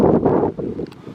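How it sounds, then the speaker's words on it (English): Wind buffets the microphone of a motorbike with a sidecar riding into a headwind through the Kerry Mountains, Ireland, on the Ballaghbeama Gap road; a loud, steady low roar with some gusty fluctuation. "The wind's nice. It is a bit of a headwind, but it cools me down."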